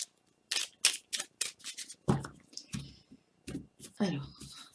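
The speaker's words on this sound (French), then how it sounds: "je vais mettre quelques cartes dessus pour avoir des précisions avec le petit oracle de l'intuition" Oracle cards are laid one after another onto a table, giving a quick run of crisp slaps and clicks followed by a few heavier taps and shuffling contacts, close and clear, with no voice.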